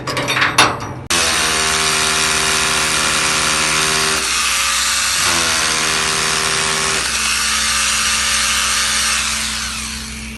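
Power drill boring anchor holes into a cellar wall during a safe installation, loud and close, with a steady whining drone that briefly dips and changes pitch as the bit bites.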